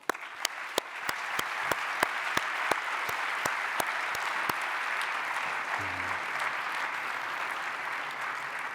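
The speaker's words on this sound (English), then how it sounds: "let's please give them all an additional warm round of applause." A warm round of applause at a conference closing ceremony after presentation awards, a steady dense wash of many hands from a large audience with a few sharper individual claps standing out, sustained for the whole stretch.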